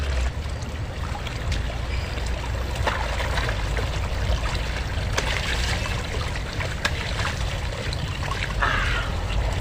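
A soft, steady trickle of water running from a spout pours continuously, fairly quiet with faint clicks and splashes over a low background hum.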